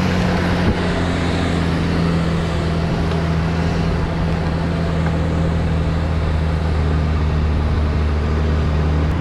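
A truck on a road climbing a hill, heard from a bicycle as a steady droning engine hum with constant rumble and wind noise throughout, no passing swell, fairly loud and continuous.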